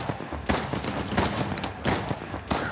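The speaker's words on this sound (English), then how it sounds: "Damn! I hate those laser guns." Rapid bursts of laser gun fire in the video game Uncharted: The Lost Legacy, dense and continuous with sharp repeated shots throughout, fairly loud and close.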